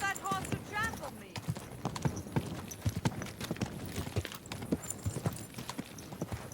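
Horse hooves clip-clop in a steady rhythmic walk in the video game Kingdom Come Deliverance 2, close and continuous, with a brief whinny and people talking over the hoofbeats.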